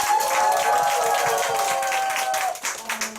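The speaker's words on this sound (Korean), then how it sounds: "늘 우리를 위해서 애써주시는 우리 빅반대장 김건우 사장님께 감사의 박수 부탁드립니다." An audience at a Nu Skin group meeting applauds to thank a team leader, with dense, steady clapping filling the room and a faint sustained tone running beneath it before the applause thins out near the end.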